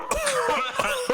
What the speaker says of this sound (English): He just coughs into the mic.